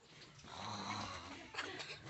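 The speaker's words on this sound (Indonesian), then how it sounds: "Lagi ngorok dia" A child sleeping soundly under a blanket snores in steady, raspy, rhythmic breaths, heard close and quietly in a room with no talking.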